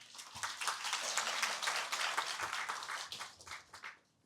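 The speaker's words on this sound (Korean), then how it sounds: "박수로 맞이해 주시기 바랍니다" Audience applause at a redevelopment association briefing, steady clapping from a seated crowd in a hall that builds, holds for several seconds and tapers off.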